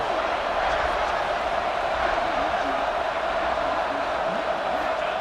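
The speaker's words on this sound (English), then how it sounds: "This crowd is trying to inspire this defense to make a big red zone stop." Constant roar of a stadium crowd in a college football video game, a dense steady wash of noise with no breaks.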